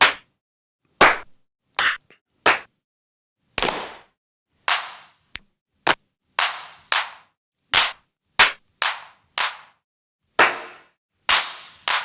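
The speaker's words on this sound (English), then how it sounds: "claps are claps" A series of separate hand clap samples played one by one on an Akai MPC, with short silences between them, each sharp and dry with slightly different tones.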